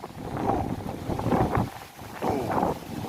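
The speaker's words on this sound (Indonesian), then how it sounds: "Pada lari semua, ada angin ribut." Strong storm wind buffets the microphone at a river fishing spot at Kalimalang, Lamongan, with waves on the water, coming in loud rushing gusts that swell and ease throughout.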